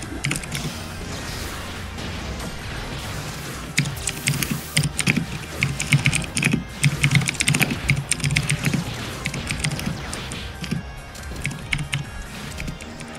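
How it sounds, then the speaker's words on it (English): A loud computer keyboard is hammered in rapid, clattering bursts over about thirteen seconds, dense and close, with the mashing getting heavier in the middle stretch and no voices. "that was a really loud keyboard."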